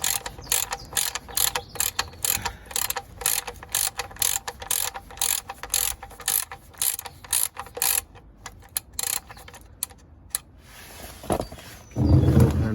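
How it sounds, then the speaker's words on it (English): A ratchet with a 19mm socket clicks in quick repeated bursts while loosening the sump plug on a VW Golf Mk7 1.2 TSI, close and fairly loud, pausing briefly before a final louder rustle. "literally just do a few turns with the ratchet"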